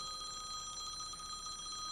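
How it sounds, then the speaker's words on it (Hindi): A steady electronic ringing tone sounds continuously and faintly over a low background hum, with no voices. "तुम्हारा फोन। बजी, घंटी बजी।"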